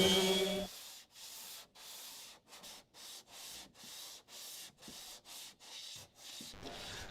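A flexible longboard loaded with 120-grit sandpaper rasps across fairing compound on a Boston Whaler boat hull, a steady rhythm of about a dozen separate back-and-forth strokes, close and alone.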